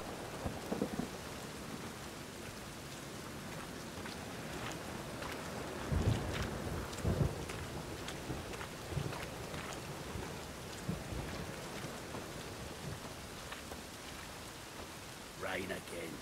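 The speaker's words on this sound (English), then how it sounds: "Rain again." Steady rain with several low thunder rumbles in a stormy scene from the video game The Witcher 3, a continuous wash of rainfall with booms rising around the middle and near the end.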